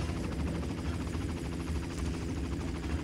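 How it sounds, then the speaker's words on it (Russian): Helicopter in the video game Far Cry, a steady low rotor drone that fills the scene continuously at moderate level, with no talk over it. "Там вертолет жужжит."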